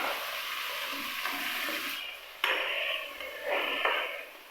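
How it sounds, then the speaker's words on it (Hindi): Tomatoes and onions frying in oil for a chana chaat, a steady close sizzle with brief stirring bursts partway through, no voices. "तो अब इसमें मैं टमाटर शामिल करूँगी। टमाटरों को अच्छे तरीके से भूनना है।"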